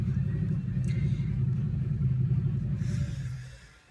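Motorcycles revving nearby, a heavy low rumble of engines holding steady and then fading away at the end.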